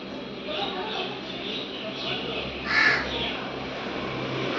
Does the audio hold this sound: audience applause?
no